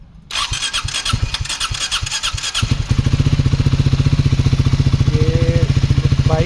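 A Triumph Speed 400 motorcycle, long left standing, cranks over for a couple of seconds with a slow, labored starter before its single-cylinder engine catches and settles into a steady, loud, rhythmic idle.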